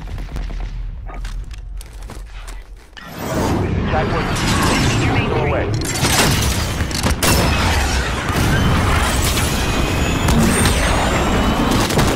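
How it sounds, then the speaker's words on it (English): A cruise missile launches in Call of Duty Modern Warfare: after a quieter stretch with voices, a loud sustained roaring blast with hissing and rumbling takes over and stays dense to the end. "Cruise missile, go for launch."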